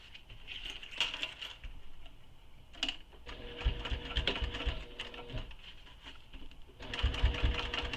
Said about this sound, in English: And then we will top stitch these.